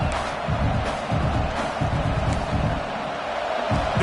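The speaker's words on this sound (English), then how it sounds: "This crowd knows this defense needs them right now." Football stadium crowd roaring steadily throughout, a loud dense wash of cheering with rhythmic surges, near and continuous, with no clear talk over it.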